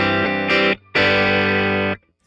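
Electric guitar played through a JHS Colour Box pedal into an amp: two loud, saturated strummed chords ring out with a short gap between them, then cut off abruptly.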